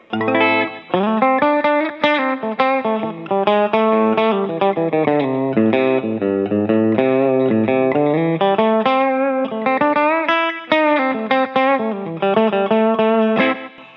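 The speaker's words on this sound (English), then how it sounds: "here is the bypass signal without the Super Overdrive" An electric guitar plays a continuous melodic line with sustained notes, full and loud, with a bit of delay and reverb and no voices, its clean signal with the overdrive pedal bypassed.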